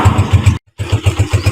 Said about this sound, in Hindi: ये अब इस बाइक की राइड लेने लगा हूँ मैं।